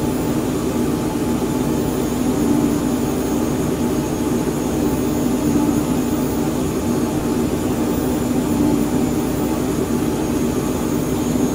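Twin jet engines of a Phenom 100 at climb power in a flight simulator give a steady, loud, unbroken roar with a constant high whine throughout.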